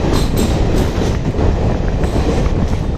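Kolkata–Jammu Tawi Express passenger train running, a loud steady rumble of wheels on track with rhythmic clicking and faint squeals, heard from inside the carriage with no talking.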